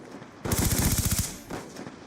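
Video game gunfire from Modern Warfare comes as a loud, rapid automatic burst of about a dozen rounds, followed by a softer, shorter rattle after a brief pause.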